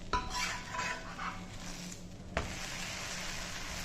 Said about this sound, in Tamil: இப்போ நம்ம இதை வந்து பிரட்டி போட்டுருவோம்.